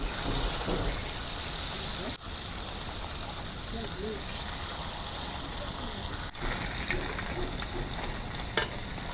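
Large pomfret fish fry in hot oil in a pan, a steady loud hiss of spattering oil, like rain, with a couple of brief clicks and knocks breaking the even sizzle.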